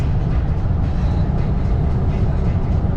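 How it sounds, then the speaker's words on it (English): A fast-moving train rumbles past close by in a steady, loud, low roar that holds without a break for the whole stretch. "Choo choo! I love trains."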